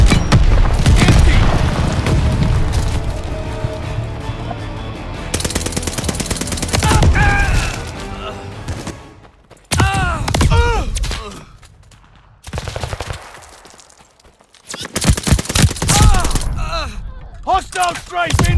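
Rapid machine gun fire in the shooter game Call of Duty Vanguard, loud and close, rattling in dense sustained bursts broken by short pauses, with explosive booms and shouted voices mixed into the battle.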